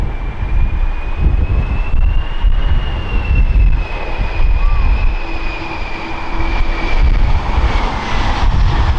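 A jet airliner roars loudly and steadily on approach for a crosswind landing, a heavy continuous rumble with a faint whine above it, close and sustained throughout.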